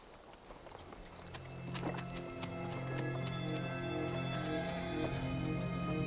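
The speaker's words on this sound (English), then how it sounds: "All those good horses are just gonna walk away." Horses clip-clop away at a slow walk, the steady hoofbeats growing slightly louder over a sustained orchestral music bed with no talking.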